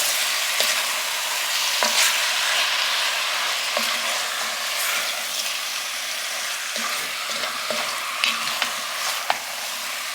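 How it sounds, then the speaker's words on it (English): Seasoning is stirred into Texas chili in a pot over a steady loud sizzle, with a spoon scraping and clinking now and then against the pot's side. "So add the seasoning and blend this, mix this up in here."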